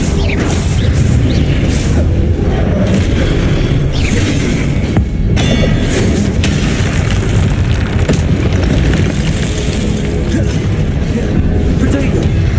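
Confringo blasting spells exploding in Hogwarts Legacy combat: continuous loud booming blasts and rumbling fire, with sharp crackles and mechanical clatter layered over a heavy low roar for the whole stretch.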